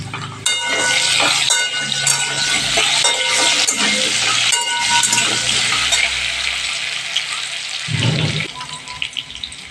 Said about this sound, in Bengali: এবার আমি আলুটাকে লাল লাল করে অনেকক্ষণ ধরে ভেজে নেব